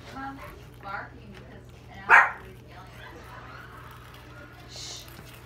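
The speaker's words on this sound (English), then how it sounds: "The dog's gonna start barking." A dog barks during a cheese puff challenge, giving one sharp, loud bark in the middle and a few softer yips and whimpers around it, over a low steady hum, with people talking in between.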